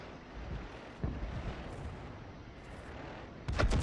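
A Bishop self-propelled gun firing in a video game, a booming artillery shot around the one-second mark followed by rumbling battle ambience, then another heavy blast near the end, with no speech.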